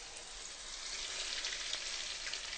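Food fries in hot oil with a dense, steady, close sizzle and fine bubbling crackle throughout.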